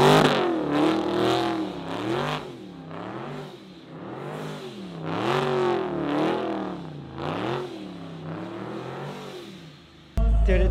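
An 1100-horsepower NASCAR stock car engine revs hard while driving, rising and falling in repeated loud surges before a sudden cut near the end.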